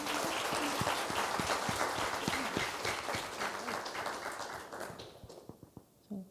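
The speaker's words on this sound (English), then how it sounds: "So big round of applause for all of our artists." Audience applause at a Hawai'i-to-Palestine art summit panel, dense sustained clapping from a crowd that thins and fades out near the end.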